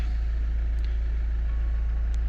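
A Volvo XC60 engine idling after being started, a steady low hum with a regular pulsing throb, close and unchanging throughout.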